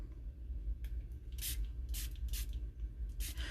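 Several short hissing bursts from a spray pen spraying ink, irregularly spaced, close and fairly soft against a quiet background.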